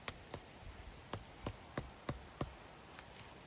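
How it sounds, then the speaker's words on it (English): A metal hammer drives the stake of a solar landscape spot light into the ground outdoors, giving about nine sharp, evenly spaced strikes with short pauses between them, close and clear with no talking. "I'm gonna go ahead and take this stake,"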